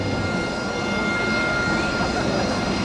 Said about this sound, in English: Captain David Lawrence, call sign Lenny, in the AV-8B Harrier.